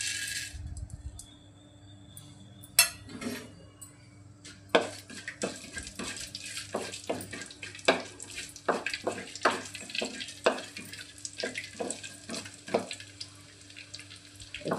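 Cumin, coriander and fenugreek seeds fry in a little oil in a pan, giving quiet, irregular sputtering crackles and small pops that grow busier after a couple of seconds and carry on steadily.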